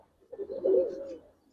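A single low, rolling coo from Giribaz and coloring pigeons rises and fades over about a second. The call is faint and close with a quiet background and no voices.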